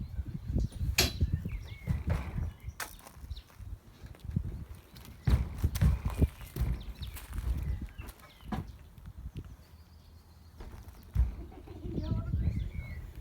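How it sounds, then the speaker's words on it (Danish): A large horse walking with irregular, muffled hoof clops spread across the stretch, over a low rumbling background with occasional soft knocks. "Du er en stor hest, jo."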